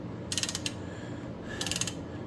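A ratchet snugs connecting rod bolts on a forged VQ37VHR engine build, two short bursts of rapid metallic clicks close up, separated by a brief pause.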